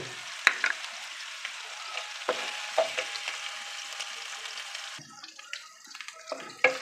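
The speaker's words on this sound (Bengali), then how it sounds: "এটা আমি বেশ কিছুক্ষণ নাড়াচাড়া করব" Chinese-style vegetables are stirred in a frying pan with a gentle, steady sizzle, broken by scraping and clacking strokes of the utensil, fairly quiet and close.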